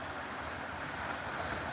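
A natural waterfall in a valley in central Portugal rushes far below as a steady, broad, faint roar of falling water, mixed with light wind, no speech.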